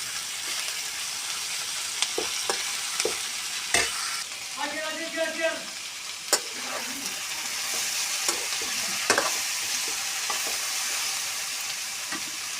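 Ivy gourd and potatoes fry with turmeric in a pan, a close sizzling hiss broken by scraping stirs and sharp clatters of a utensil, with a brief rattling burst midway and no talking.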